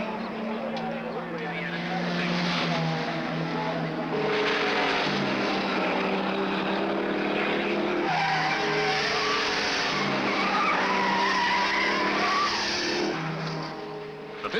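Racing cars at the 1971 Bathurst 500, including rotary-engined Mazdas on Dunlop racing tyres, roar loudly with engine notes rising and falling as they pass, under a commentator's voice.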